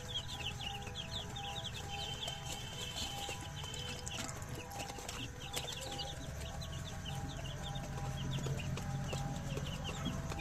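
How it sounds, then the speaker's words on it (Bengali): Chickens cluck and chirp steadily on a poultry farm, a dense, continuous flock chorus with overlapping calls and a low background hum, fairly faint and without talk. "তো আমি এখন মুরগি ধরবো, দিব।"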